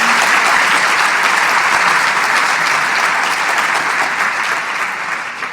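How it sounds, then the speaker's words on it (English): Applause fills a banquet hall at a women's day breakfast event, with dense, loud clapping from many hands that holds steady and then fades slightly toward the end. "So one round of applause to everybody again."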